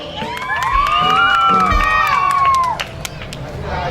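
A crowd at a Thai luk thung country music concert shouts and cheers loudly, with children's high voices prominent in a sustained excited roar that swells and then eases slightly.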